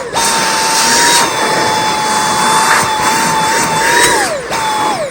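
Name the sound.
Dyson V8 cordless handheld vacuum cleaner running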